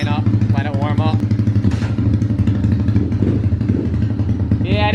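A modified Polaris-style 110 snowmobile engine, built rather than stock, runs loud and close with a steady throbbing idle and some revving, while voices talk over it at the start and end.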